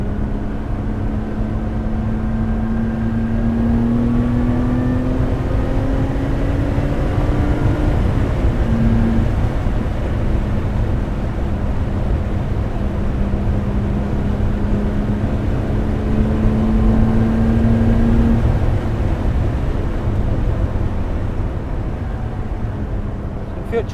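Lotus Exige Sport 410 on the Goodwood motor circuit, its engine a steady drone with rising and falling pitch sweeps as it accelerates and shifts, continuous and loud throughout, with occupants talking over it at times.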